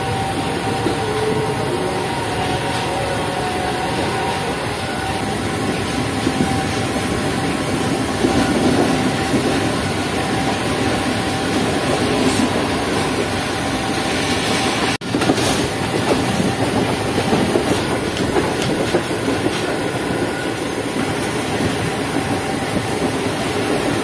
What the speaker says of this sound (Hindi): तो फैसलाबाद शहर से निकल रही है सर हमारी 43 अब शाह हुसैन एक्सप्रेस